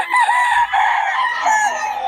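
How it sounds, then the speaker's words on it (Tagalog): A rooster crows nearby, one long drawn-out call that rises and wavers before trailing off. "Puro solid na mga manok ng Boss Tony ngayon mga idol."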